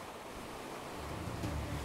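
Waves washing around a Nautitech Open 40 catamaran sailing at about 10 knots on a formed but regular sea, a continuous rushing wash mixed with wind noise on the microphone, with no voices.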